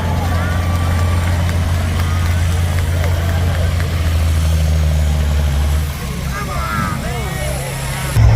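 A pulling truck with a Caterpillar engine idles at a motorsport park truck pull, a steady low rumble throughout with people talking over it and a sharper rise at the very end.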